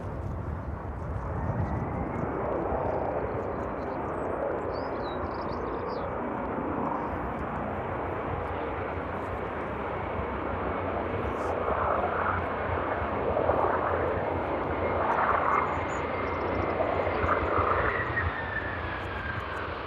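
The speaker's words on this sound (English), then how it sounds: "Very strong reverse thrusters on that one. A lot of noise this unit from that 767." A Boeing 767 lands at East Midlands Airport and roars under strong reverse thrust, a loud, sustained engine rumble heard from a distance that swells and holds for the whole stretch.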